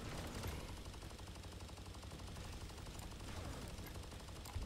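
Turret gunfire in the Galahad 3093 video game: a rapid, steady stream of automatic shots at a fairly quiet level, running unbroken for several seconds.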